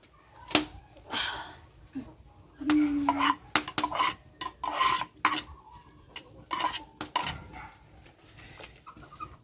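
Jackfruit stirred into binignit in a metal pot, with a run of close, uneven scraping and clinking strokes of spoon against pot, some quick and clustered, with faint background noise between them.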